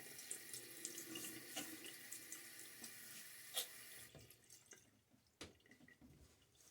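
Tap water runs into a bathroom sink for face washing before a shave, a steady close splashing stream that thins toward the end, with a few drips and light knocks and no voices.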